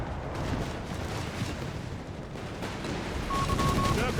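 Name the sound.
Vickers machine gun firing in Company of Heroes 3 video game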